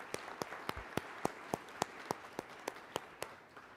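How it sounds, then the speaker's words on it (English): Sparse, faint audience clapping at a trade policy forum, a dozen distinct evenly spaced claps over a quiet room background, as if from a few people. "Let's give them a round of applause for helping us today."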